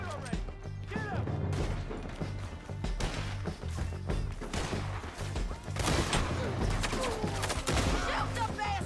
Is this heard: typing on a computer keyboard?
no